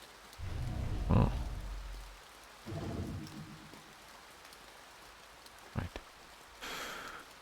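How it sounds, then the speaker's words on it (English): Steady rain patters on a surface in the video game To the Moon, with a low thunder-like rumble early on and a few brief sharper knocks; a single spoken word comes through. "When it comes to rain, through is better than onto."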